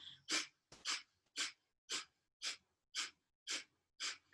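Eight long, deep yoga breaths, each a broad airy exhale about half a second apart with short gaps between, close and steady with no talking.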